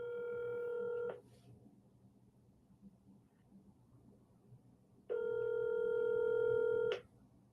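An outgoing phone call rings through a handset: two long, steady electronic ring tones separated by a few seconds of low background hiss, with no one speaking.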